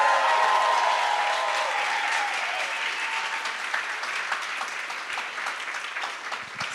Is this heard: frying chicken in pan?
no